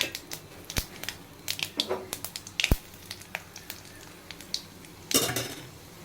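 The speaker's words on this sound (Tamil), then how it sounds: "கடுகு பொரியுது பாருங்கள்" Mustard seeds, urad dal and chana dal splutter in hot oil for homemade pudina rice, making sharp scattered pops and crackles close up, with a louder sizzling burst near the end.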